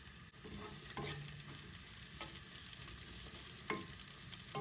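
Garlic frying in a tablespoon of oil in a pan, a steady close sizzle with occasional scraping stirs and utensil clinks throughout, no talking.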